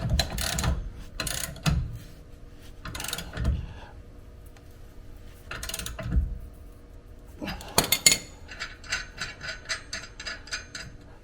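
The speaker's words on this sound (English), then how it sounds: "Take your 15/16 ratchet, snug up that bolt." A 15/16 ratchet snugs up a bolt on a hitch clamp against the receiver, giving several loud, separate metallic clanks and clicks, then a quick run of rapid ratcheting clicks near the end.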